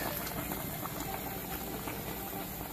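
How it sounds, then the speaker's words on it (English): A crawfish pot at a rolling boil bubbles steadily and loudly, with a constant churning gurgle and no one talking. "after you get a good boil going like that"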